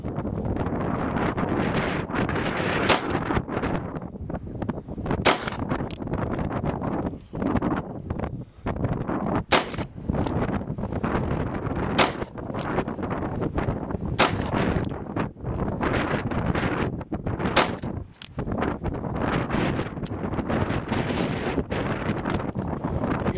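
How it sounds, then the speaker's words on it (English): A Pietta 1873 revolver fires Perfecta 158-grain full metal jacket .357 Magnum rounds outdoors, several loud sharp reports spaced apart over heavy, constant wind buffeting the microphone. "now let's try some Perfecta 158 grain full metal jacket 357 Magnum"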